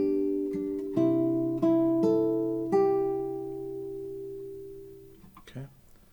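Classical guitar plays one measure of Roncalli's Gavotte: a few plucked notes and chords, each ringing clearly and sustaining into a long decay, alone with no talking.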